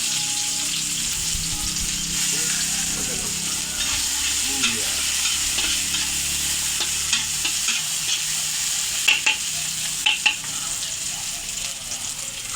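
Onions sauté for ginisang ampalaya in a kawali, a loud continuous sizzle with steady stirring and scraping, a few sharper clacks of the spatula near the end.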